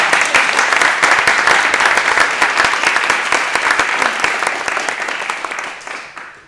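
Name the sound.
audience applause for Chloe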